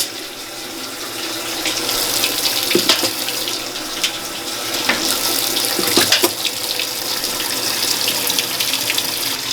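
A washing machine set to its delicates cycle, loaded with mesh bags of makeup brushes, fills with water as a steady close rush pours in, broken by a few soft knocks and splashes.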